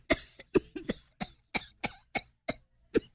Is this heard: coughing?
yes